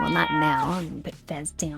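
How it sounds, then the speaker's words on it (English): A pet cat meows close by in a long, rising and falling cry, then someone speaks over a couple of shorter sounds. "That's my cat."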